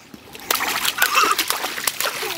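Water splashes and sloshes in a quick run of irregular, close splatters over a couple of seconds.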